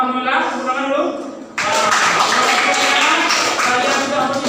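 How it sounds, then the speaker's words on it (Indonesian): Pupils in an Indonesian school classroom burst into a sustained round of applause that begins abruptly and continues steadily to the end, after a stretch of a teacher talking. "tepuk tangan dulu"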